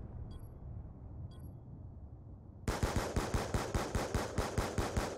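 Automatic gunfire from Call of Duty: Black Ops 2 in a search-and-destroy match starts abruptly after a quiet stretch with two faint chirps, then continues as a loud, rapid, evenly spaced burst of shots.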